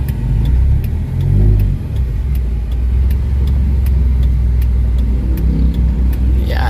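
A Honda Fit with a CVT transmission reversing toward a shop, its engine giving a steady, loud low rumble with a buzzing vibration throughout and a brief swell in revs near the start.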